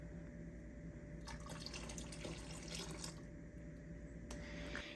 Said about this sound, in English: Okay, let's pour in the vinegar.